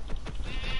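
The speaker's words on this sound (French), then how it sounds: "il me faut des moutons" Sheep bleating in the Minecraft video game, a few short bleats repeating over a steady game-music background, fairly close and clear.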